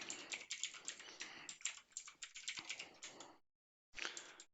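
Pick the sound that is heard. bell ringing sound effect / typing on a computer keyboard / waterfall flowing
typing on a computer keyboard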